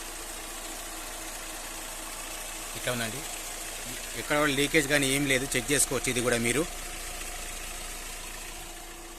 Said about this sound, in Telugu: ఇంజన్ సౌండ్ మాత్రం ఇట్టుందండి చూసుకోవచ్చు